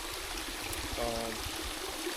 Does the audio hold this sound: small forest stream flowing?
yes